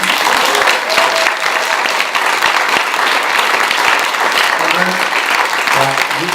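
A panel discussion audience gives a final cheer, loud sustained clapping throughout with whoops and cheers rising above it toward the end.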